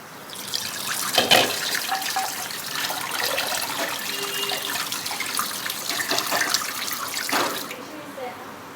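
Water runs and splashes steadily into a pan of whisked curd for kadhi for several seconds, a continuous close hiss that stops near the end.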